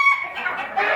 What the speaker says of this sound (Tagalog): Brahma chicken.